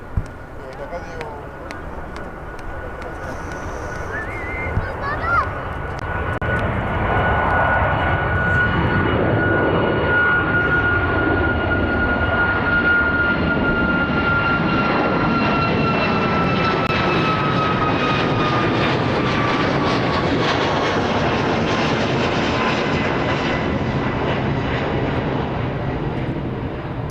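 A Ryanair airliner takes off at Birmingham Airport with a loud, sustained jet roar that builds and holds over the whole stretch, with a high whine above it, and some faint voices at the start.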